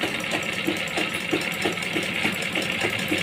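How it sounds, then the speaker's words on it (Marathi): A sewing machine stitches a picot fall onto a saree with a steady, fast mechanical chatter, each stitch knocking in an even rhythm close by with no voices. "इथं शिलाई थोडीशी मारून घ्यायची आणि मग फोल्ड करायचा"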